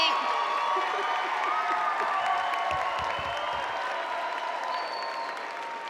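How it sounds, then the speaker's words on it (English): Sustained applause and cheering from the audience at a UW School of Public Health graduation ceremony for the graduating students, a dense steady wash of clapping with whoops over a large crowd, fading slightly toward the end. "please rise so we can give you another round of applause"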